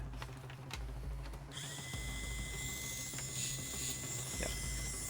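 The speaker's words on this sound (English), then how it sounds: "Okay, more sanding to do." A power tool sands a prosthetic forearm, starting with intermittent clicks and scraping, then spinning up into a steady high whine with a rough grinding layer, fairly faint overall.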